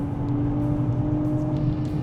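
Inside a Nissan Z Nismo, the engine's induction note holds a steady low drone with a faint whine riding on top, a continuous cabin hum with no talking.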